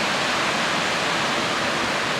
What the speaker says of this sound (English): here you can see the pipe and the waterfall in the background.